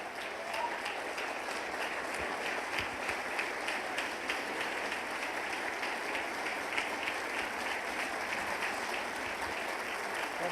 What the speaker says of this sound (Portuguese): Eu acho que esse momento merece um aplauso em pé